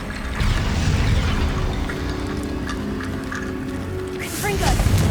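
A Confringo fire spell in the Hogwarts Legacy video game sets off a deep rumbling boom that fills the scene. A brighter burst comes near the end, and a voice is heard alongside.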